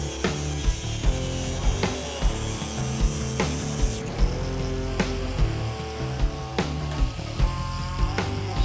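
Metal chassis parts being cut to fit for welding, heard as a loud, steady rasping cut with regular rhythmic strokes roughly every half second, close and continuous throughout.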